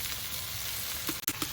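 Spinach frying in a pan, a loud, steady sizzle followed near the end by a few quick clinks and scrapes of a utensil, with no voices.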